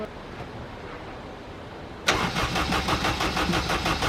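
A Honda car's engine cranks during a jump-start attempt: quiet at first, then an abrupt, loud, rhythmic churning sets in partway through and keeps pulsing steadily close by.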